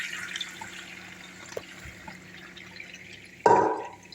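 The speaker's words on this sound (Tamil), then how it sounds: "இப்போ வந்து இந்த மாங்காயில் இருக்கிற மொத்த உப்பு தண்ணியை நம்ம வடிகட்டிடலாம்" Salt water from soaked mangoes, drained off while making dried mango slices, runs through a strainer: faint, quiet dripping and trickling, then a brief louder splash of poured liquid near the end.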